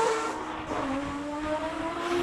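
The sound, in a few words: Mazda RX-7 race car engine at speed event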